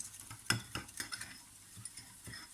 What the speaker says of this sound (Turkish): Karışımımı güzelce çırpıyorum.